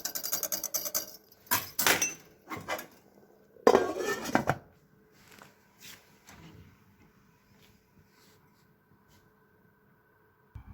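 A metal saucepan clanks and scrapes as it is put into an oven, a few sharp bangs and clatters near the start, then the noise fades to quiet with faint light knocks.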